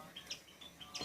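Small pet birds chirp in a few quick, high, faint tweets spaced close together over a quiet room.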